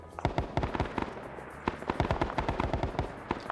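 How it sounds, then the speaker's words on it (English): Heavy gunfire in a Vietnam-era multiplayer combat game, with dense rapid bursts and overlapping automatic weapon shots crackling continuously and loudly, a brief lull just before the midpoint, then sustained firing resumes with no voices. "Meanwhile, you hear heavy fire."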